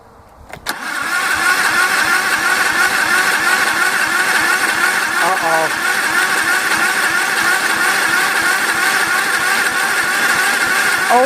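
A Honda lawn mower engine gets a very cold start: a pull, then a sputter that catches into a loud, steady, close-up running chug that continues to the end.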